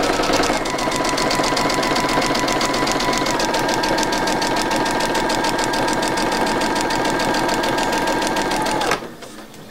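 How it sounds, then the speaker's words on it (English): A sewing machine stitches a paper-pieced quilt block in one loud, continuous run of fast, even needle chatter lasting about nine seconds, then stops abruptly. "So here we go, we're just going to stitch right on the line."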